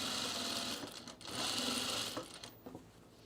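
A sewing machine stitches a seam into cotton-style pajama fabric, running steadily at close range with a brief pause midway and a few short bursts near the end.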